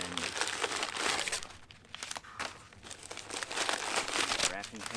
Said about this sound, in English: wrapping paper.